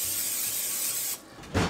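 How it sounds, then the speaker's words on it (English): Cooking spray hisses onto a hot pan for about a second, stops, then a short burst of sizzling follows before a pancake is cooked. "I feel like I should use some spray on this."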